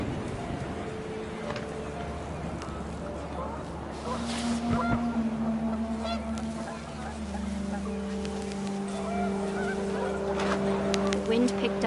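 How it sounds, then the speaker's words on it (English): Panicked geese honk in a windy outdoor scene from the game What Remains of Edith Finch, with repeated nasal honks over a low steady drone while a voice speaks. "The wind picked up, and panicked geese appeared and quickly went."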